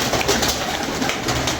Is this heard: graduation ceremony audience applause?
no